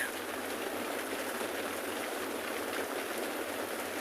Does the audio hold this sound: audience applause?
no